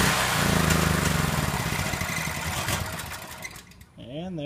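A Powerhorse generator's small engine runs steadily and fairly close, then falters and dies as its fuel tank and carburetor run dry, leaving a brief wavering tone afterward.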